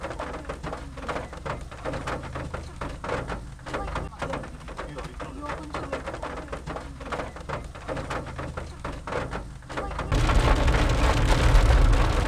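Steady rain falling while driving through Kruger National Park, a continuous broadband patter that swells louder near the end, with faint voices underneath.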